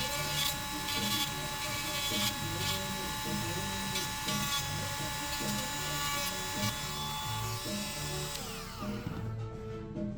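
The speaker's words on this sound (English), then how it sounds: "I go through and sand down the enamel on the magnet wire" Magnet wire having its enamel coating sanded off for a homemade 1000-watt motor, a steady rasping, scratching texture repeating in quick strokes close by over a constant background hum, ending in a fade near the end.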